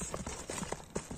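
A horse's hooves clip-clop in quick, regular beats on firm ground, clear and fairly close, with no talking over them.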